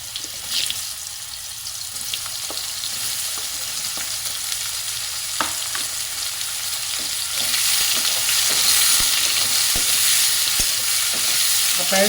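Mushrooms fry in mustard oil, a continuous close sizzle that grows louder and denser partway through, broken by scattered spoon clinks and scrapes as they are stirred, with no talking.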